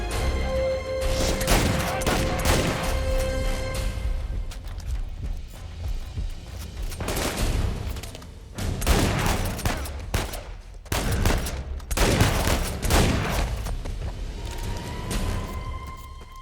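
Gunfight in the video game Uncharted 4, with repeated loud shotgun blasts and other gunfire coming in clusters separated by brief lulls.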